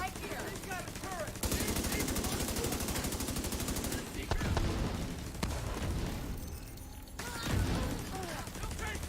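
Sustained turret machine gun fire during a video game firefight, a rapid continuous stream of loud shots mixed with heavier booms and impacts, with a voice talking over it.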